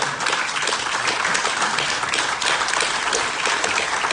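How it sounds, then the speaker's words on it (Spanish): Church congregation applauding during a Spanish-language sermon, dense continuous clapping from many hands filling the room, fairly loud and steady with no voices over it. "Dale un aplauso a Dios."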